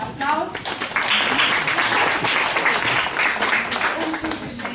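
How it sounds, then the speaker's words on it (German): An audience at a Lithuanian school gathering applauds with steady, full clapping, with a voice briefly audible at the start. "Noch einmal Applaus."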